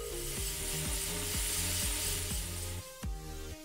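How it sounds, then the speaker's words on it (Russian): A steel rod being cleaned of rust with a rotary tool, giving a steady, loud grinding rasp with rhythmic ratcheting pulses about twice a second and a brief drop near the end. "Для начала немного зачищу стальной пруток от ржавчины."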